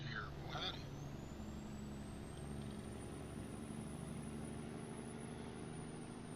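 Steady low diesel truck engine drone from American Truck Simulator, a long extended-frame truck taking turns, running continuously with a rising high whine and a brief air-brake hiss near the start.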